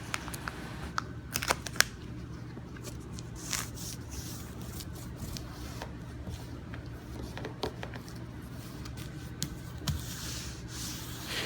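Masking tape pulled and pressed along the edges of a convertible top: soft rubbing, crinkling and sharp little tape snaps in an uneven rhythm, faint and close over a low steady background hum.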